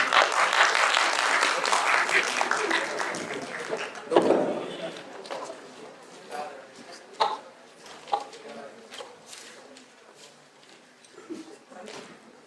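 An audience at a pharmaceutical education talk applauds a guest doctor, a burst of clapping that fades after a few seconds, followed by scattered claps, rustling and a voice beginning to speak.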